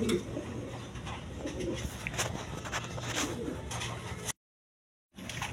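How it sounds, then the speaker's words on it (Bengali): A big-sized pair of Maltese pigeons coo softly and steadily over faint background noise, the sound cutting out abruptly near the end before returning briefly. "এখানে এক পেয়ার মাল্টিস কবুতর আছে, একদম বিগ সাইজের"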